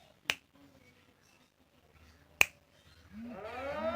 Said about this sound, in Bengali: দেখুন আমি যখন এরকম তুড়ি মারলাম এরকম চুটকি মারলাম